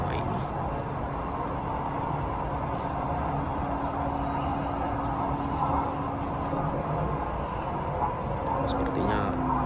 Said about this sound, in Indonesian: Kita berpapasan dengan LRT lain, kondisinya seperti ini.